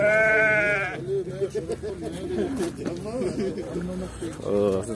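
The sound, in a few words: sheep at a livestock market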